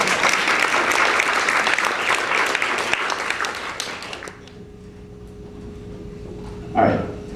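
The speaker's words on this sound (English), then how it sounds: "Big round of applause for the real..." An audience bursts into sustained applause for a couple of seconds before the clapping fades away, leaving a quiet room with a faint hum and a brief shuffle near the end.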